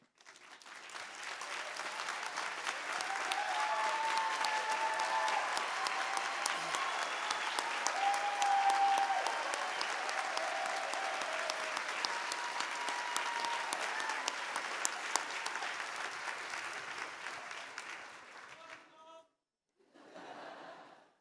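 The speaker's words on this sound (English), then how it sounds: "Please stand up so we can applaud you." Large audience applauding steadily at a Champlain College commencement, honoring graduates' families and supporters; a long, dense ovation with scattered chuckles that fades out near the end.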